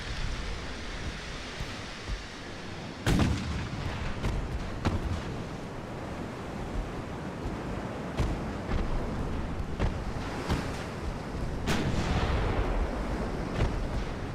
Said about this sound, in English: Oh, battleship's firing at us.